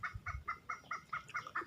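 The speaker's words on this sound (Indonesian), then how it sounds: "Jadi ini jalak-jalak Bali, maksud saya jalak kebo" Javan mynas (jalak kebo) at a forest conservation lab in Wanareja give a run of about eight short, evenly spaced chattering calls, close and fairly loud, with low thumping noise underneath.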